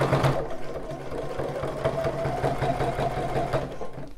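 A domestic sewing machine stitches a bra seam with elastic, running in a steady fast mechanical rhythm of close, even needle thumps for several seconds with no speech over it.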